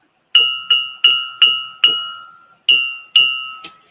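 Vintage crystal glassware tapped again and again, giving eight bright ringing clinks in an even rhythm, each note sustaining and fading before the next, close and clear with no talk over it.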